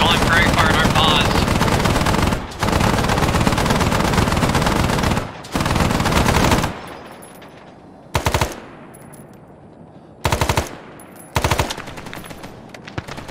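Machine gun fire in the ARMA 3 S.O.G. Prairie Fire video game, long loud sustained bursts up front, then short separate bursts with quiet gaps between them.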